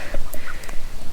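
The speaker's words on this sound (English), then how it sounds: "the ducks" Ducks in a fenced garden enclosure give a few short, close quacks in quick succession over about a second, loud and alone without talk.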